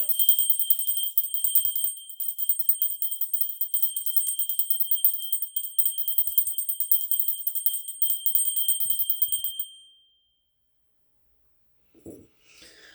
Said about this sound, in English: if you don't like bells, you might want to cover your ears for a second